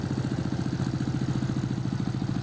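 A Honda XRM 125 motorcycle engine fitted with a 57mm bore kit, a four-valve C5 head and a stock injector runs at idle with a fast, even, throbbing pulse, close and steady.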